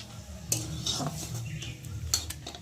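Egg curry ingredients being fried and stirred in a pan, with a spatula scraping and tapping against the metal over a steady low cooking hiss, two sharper knocks standing out, close and fairly loud.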